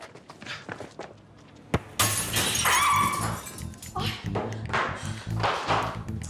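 A glass window shatters with a sudden loud crash after being hit by a ball, the breaking glass ringing out bright and close, followed by scattered rattling debris and excited voices.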